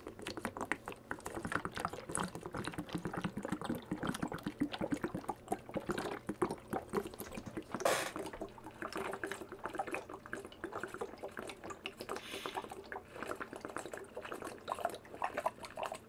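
Water gulped from a large 1-liter bottle, with steady liquid sloshing and swallowing close up for the whole stretch and no talking.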